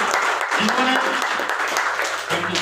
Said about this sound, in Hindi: एक जोरदार ताली होनी चाहिए हमारे डॉक्टर संजीव सर के लिए